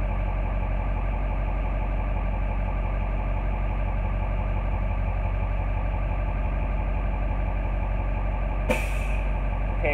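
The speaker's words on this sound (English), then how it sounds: "We're just taking a quick ride on the bus." A bus engine, the vehicle numbered 11, drones steadily and close throughout the ride, a deep continuous rumble with a mechanical rattle and a brief hiss near the end.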